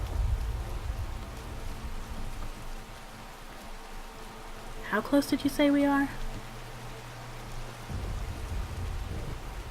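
Steady rain falls on the road near Riverwood in the video game Skyrim, a constant soft patter throughout while characters exchange a few words of dialogue.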